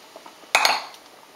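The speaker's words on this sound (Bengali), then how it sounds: "ডালটা ঢেলে আমি ভালো করে মিশিয়ে নেব খুন্তির সাহায্যে" Boiled mung dal stirred with a metal spatula in a pan: two sharp clinks of the spatula against the pan, followed by a short wet scraping swirl that fades, close by, with quiet background before.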